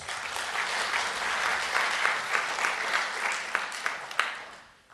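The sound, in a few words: audience applause at a theological symposium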